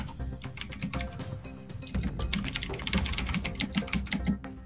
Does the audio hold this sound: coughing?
no